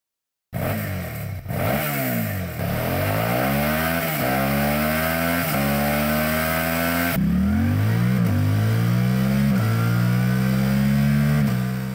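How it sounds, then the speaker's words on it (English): Two stock motorcycle exhausts, a 90-degree V-twin and the 8S, rev repeatedly in close succession, each blip rising and falling in pitch, the second machine's note entering with a sharper, fuller tone. "Listen to the stock exhaust notes of both."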